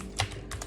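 Two short bursts of computer keyboard typing, a cluster of keystrokes followed by a brief pause and a second cluster, close and fairly quiet against a faint room hum.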